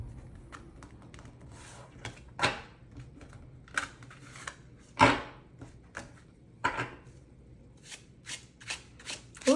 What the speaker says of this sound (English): This has a very satisfying shuffle.